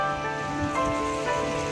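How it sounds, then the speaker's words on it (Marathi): Monsoon rain falls steadily at Tung Fort near Lonavala, a dense, continuous patter on surfaces and foliage, fairly loud and close, with faint tonal hum underneath and no talking. "परत पाऊस चालू झालाय"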